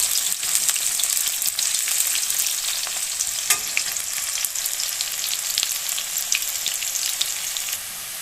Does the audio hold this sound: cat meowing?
no